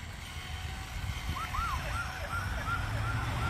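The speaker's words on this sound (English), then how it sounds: "Make the siren sound." A toy siren wails in short rising-and-falling whoops over a steady low rumble, fairly faint and repeating about once per second.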